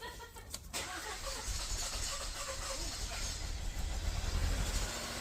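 A car engine running on Tide detergent in place of oil starts and then runs with a steady, rough low rumble. A short sharp burst comes at the start, and the sound stays moderately close and continuous throughout.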